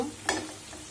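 Chicken pieces cooked down in a pan with spices sizzle faintly while a utensil scrapes and stirs once, a brief quiet kitchen sound with no talking.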